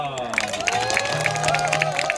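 An audience at an outdoor traditional Korean folk performance (beona plate-spinning) applauds, with loud, dense clapping and crowd noise mixed with ringing tonal sounds, all close and continuous.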